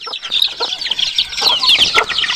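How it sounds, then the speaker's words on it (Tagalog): A large mother hen clucks in steady bursts close by, joined by other chickens and rooster-like calls in a busy farmyard chorus with no talking. "Bali, ito yung malaking inahin mga kaibigan, no?"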